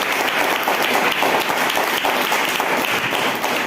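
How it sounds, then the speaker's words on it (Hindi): A church congregation at a Sunday service claps together, a dense, continuous round of many hands at close range, loud and sustained, with no voices over it. "क्या आप ताली बजा सकते हैं परमेश्वर की?"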